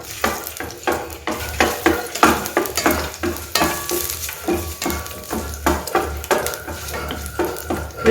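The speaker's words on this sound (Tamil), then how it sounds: "இஞ்சி பூண்டை கொஞ்சம் நல்லா வதக்கிக்கலாம்." Ginger and garlic sautéing in hot oil for jackfruit kurma, a steady sizzle broken by repeated scraping and clinking of a spoon stirring against the pan, close and alone with no talk.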